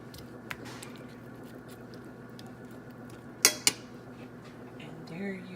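Fork and plate clinking while pancakes are served with syrup and butter, a faint tap early then two sharp close clicks of metal on a dish amid quiet room noise.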